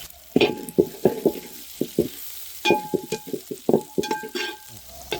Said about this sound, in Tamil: இந்த ஜீரகம் பூண்டு காஞ்ச மிளகா பச்சை மிளகா இது எல்லாம் நல்லா அந்த தாளித்து அந்த எண்ணெயோடு வரது